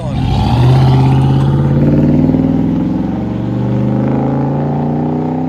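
A 2010 Dodge Ram 1500 with a 5.7L HEMI V8 and dual Black Widow Race Venom exhaust idles close by, giving a deep, steady, even rumble that holds throughout.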